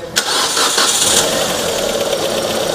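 A Proton car's Campro engine, just fitted with a new timing belt, cranks briefly and catches, settling into a loud, steady idle close by with no voices.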